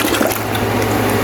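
A texture brush is swished and rinsed in a bucket of warm water while texturing a swirl ceiling, producing a steady, close sloshing and splashing that continues without pause.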